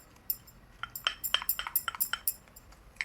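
Hair dye being mixed in a bowl: a quick, irregular series of bright clinks and scrapes from the utensil against the bowl, close and clear with no talk.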